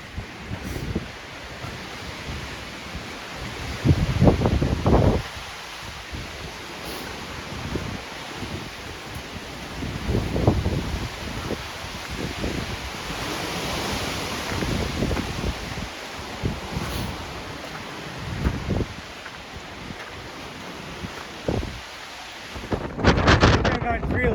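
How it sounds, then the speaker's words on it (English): Strong, steady wind gusts of about 38 miles an hour roar across an exposed mountainside at tree line, buffeting the microphone with heavy rumbling blasts that rise and fall for the whole stretch. "We're about tree line, and the wind gusts are steady, 38 miles an hour."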